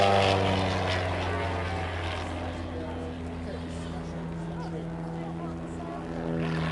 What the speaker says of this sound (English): You see David flying away and Richard diving down to join in.